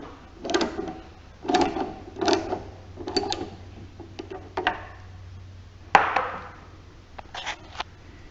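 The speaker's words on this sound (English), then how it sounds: "I'm screwing this in." A pointed screw being driven by hand into the mount of a LiftMaster 2265 garage door opener: a series of short, separate scraping and creaking turns, roughly one each second, close and clear, with one sharper knock partway through.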